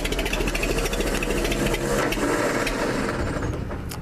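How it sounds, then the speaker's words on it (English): A stuck-engaged engine starter motor gives a loud, steady mechanical whirring grind that runs unbroken for about four seconds, with no talk over it. "The starter switch likes to stick in."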